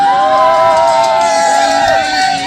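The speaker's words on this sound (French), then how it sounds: "Des cris de joie, des cris de triomphe." Wedding guests cheer and shout with joy in a loud, continuous crowd din, with whoops and high voices rising over the general roar.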